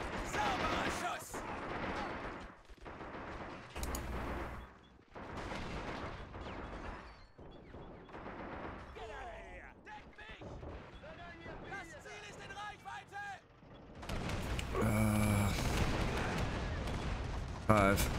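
Covering gunfire and artillery in a war video game, booming impacts and bursts of shots scattered across the scene, loud at times and mixed under someone talking.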